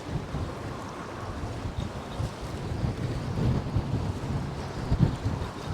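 Wind buffets the microphone at Poole Harbour in a steady roar, rising in gusts, with water sounds mixed in beneath.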